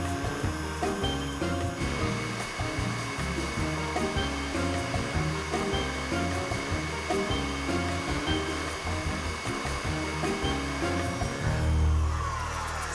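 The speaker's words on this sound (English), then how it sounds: "This mixer's been working hard." Electric mixer beating buttercream frosting, a loud continuous motor whir with rhythmic churning from the whisk in the bowl, steady for the whole stretch and alone without speech.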